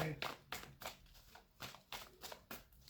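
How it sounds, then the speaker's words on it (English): Tarot cards being shuffled by hand, a series of quick papery riffles and taps repeating roughly every half second, close and fairly quiet. "Last shuffle."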